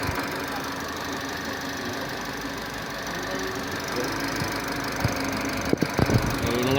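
A Toyota Vios dual VVT-i engine, repaired after sitting unused for about six months, idles in a steady, even hum, with a few sharp knocks and clunks near the end.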